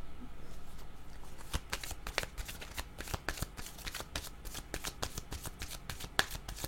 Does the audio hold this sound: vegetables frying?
no